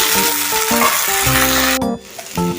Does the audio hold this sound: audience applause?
no